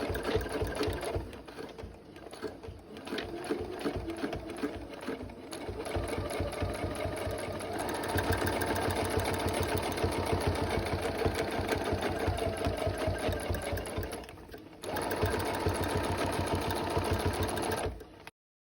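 Sewing machine stitching steadily while free-motion quilting around a flower-shaped ruler, a fast even mechanical hum with a brief pause near the start and another late, no talking.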